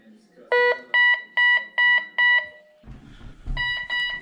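Metal detector signal tone sounding over a 1929 silver Mercury dime: five loud, evenly spaced electronic beeps, a brief pause with low rustling, then a few more beeps close up.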